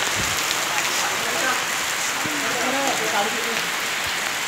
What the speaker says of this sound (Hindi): अभी बहुत तेज़ बारिश शुरू हो गई है